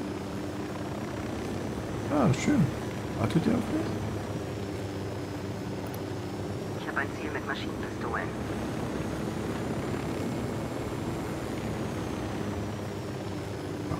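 Helicopter in the video game Ghost Recon Wildlands, a steady distant rotor drone running beneath the whole stretch while someone talks over it and brief game sounds and radio voices cut in.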